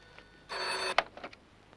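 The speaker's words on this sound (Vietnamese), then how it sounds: "Điện thoại kìa." A telephone rings in a home with a bright electronic trill, one burst followed by a short chime, fairly close and alone.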